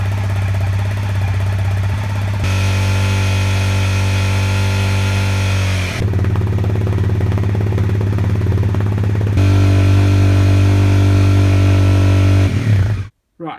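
A motorcycle with its stock exhaust runs steadily from start to finish, first at about 2000 RPM idle, then held at about 6000 RPM in stages. The engine drone is loud and close and cuts off abruptly at the end.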